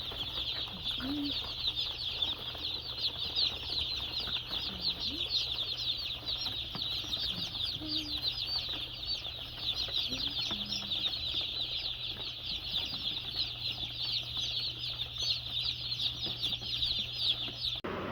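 A crowd of about a hundred Meat King meat chicks keeps up dense, continuous high peeping at close range, with occasional soft wing flutters, and no talking.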